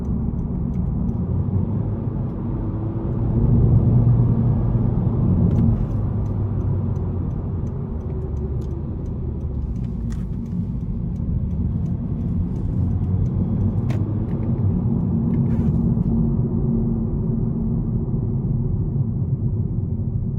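A 2022 Honda Civic Sport with a 2.0 four-cylinder engine hums steadily while driving, its low engine note and road rumble constant and moderately loud, swelling slightly at times, with no talk.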